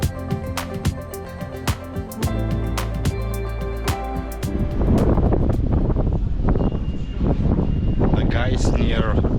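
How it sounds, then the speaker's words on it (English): Strong wind buffets a handheld microphone on a street near the Vienna State Opera, a loud, rumbling roar that grows heavier and more turbulent in the second half, with faint city sounds beneath. "Huge wind."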